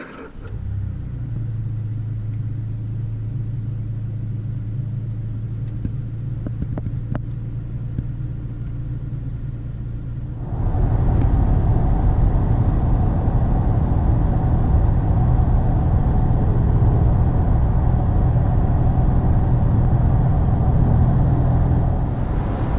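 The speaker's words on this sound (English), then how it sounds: "I will show you some clips here of me driving on the highway here shortly" Toyota Tacoma pickup cruising on a highway, a steady low engine and road rumble that grows louder and fuller about halfway through, continuous with no talking.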